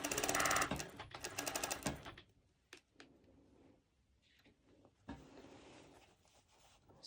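Cover stitch machine running fast through stretchy sportswear fabric for a strappy cut-out top, a loud dense burst of needle rattle for about two seconds, then quieter handling and short stitching bursts.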